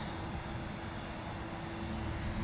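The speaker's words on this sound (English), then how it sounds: "I also hear the 767 taxiing up" A Boeing 767 jet taxis at Zurich Airport, giving off a steady, distant engine whine and low rumble with a thin tonal hum held throughout.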